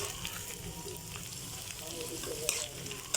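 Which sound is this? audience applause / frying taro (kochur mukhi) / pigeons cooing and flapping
frying taro (kochur mukhi)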